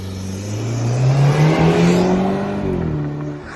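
A BMW fitted with a cheap Alibaba aftermarket air intake revs from a dead stop, engine note rising in a smooth climbing sweep, loud and close, then easing off, with no talking.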